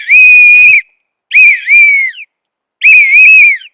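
A shrill whistle blown in three long, wavering blasts with short gaps between them, imitating an ambulance siren, loud and close with no other sound.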